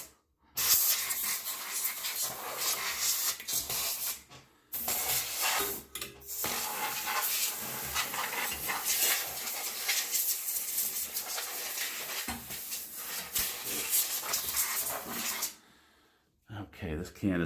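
An aerosol can sprays in long hissing bursts while an exhaust fan is cleaned, broken by brief pauses, close and fairly loud, with someone talking at times.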